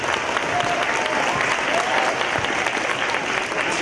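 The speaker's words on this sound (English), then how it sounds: "Give him a big round of applause." A school audience applauds at a Veterans Day program to welcome a veteran guest, sustained dense clapping from many hands filling the room at an even level, with faint crowd murmur mixed in.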